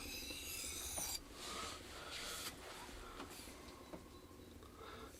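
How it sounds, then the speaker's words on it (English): A Schrade SCHF42D knife blade being sharpened on a stone gives a steady, soft rasping scrape that runs continuously, with repeated strokes. "It feels like I've been sharpening nearly flat."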